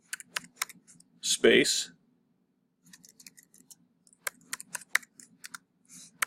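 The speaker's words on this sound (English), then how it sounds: "While it's highlighted here, we're going to type in reflect" Typing on a computer keyboard produces a quick run of light key clicks, a brief word is spoken, and then a second burst of irregular tapping follows.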